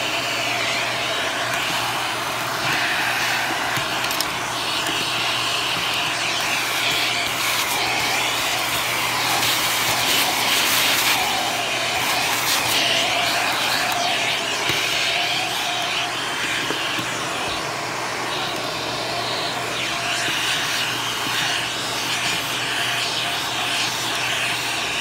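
Self-cleaning vacuum cleaner with powerful suction, a loud, steady roaring whine running continuously up close without letting up.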